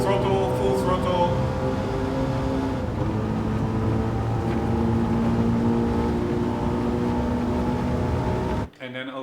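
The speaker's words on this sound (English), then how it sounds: "Full throttle, full throttle." A race car engine in Gran Turismo 7 holds full throttle down a long straight, a steady loud droning roar with a rising harmonic pitch as speed builds, cutting out abruptly near the end.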